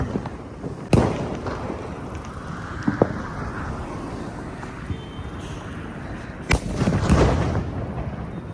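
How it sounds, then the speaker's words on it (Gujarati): Two sharp, loud sutli bomb firecracker blasts a few seconds apart, with smaller pops and crackling between them over a background rumble. "આ રહ્યું સુતરી બોમ્બનું પેકેટ"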